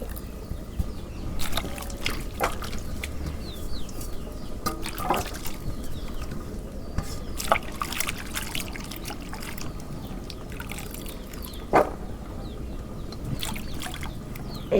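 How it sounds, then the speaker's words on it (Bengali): Taro stolons being washed by hand in water, a steady watery sloshing and rubbing with small drips and splashes throughout, close and moderately loud, with no talking. "এখন ধুয়ে নেই।"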